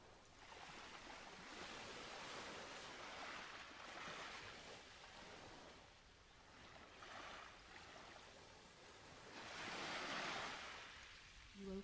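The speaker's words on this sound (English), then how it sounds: "You pause, taking in the sights and sounds of the sea." Sea waves wash onto a sandy beach below dunes, a continuous surging roar that swells and recedes in slow rolling cycles, with no voices.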